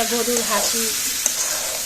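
Chicken liver bhuna frying in a pan gives a steady, close sizzle with a faint tick of stirring, while a voice speaks briefly over it near the start.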